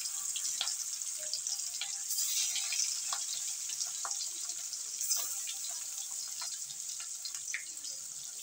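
Marinated pieces of large katla carp frying in hot oil, a steady soft sizzle with scattered crackles and pops, fairly faint and continuous.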